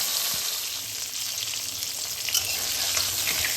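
Hilsa fish heads fry in their own rendered oil with no extra oil added, giving a close, steady, even sizzle that runs on without a break and with no voices.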